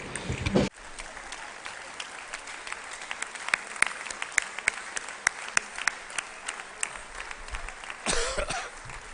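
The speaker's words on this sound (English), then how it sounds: "please a round of applause to all the actors" Round of applause for the actors at the closing ceremony of the 6th GSEF in Dakar, a sustained crowd clapping with sharp individual claps standing out and a cough near the start and end.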